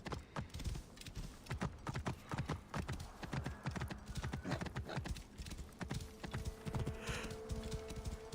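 Rapid rhythmic clip-clop of horse hooves in Assassin's Creed Origins, steady and close, continuing for several seconds with a faint tone in the background.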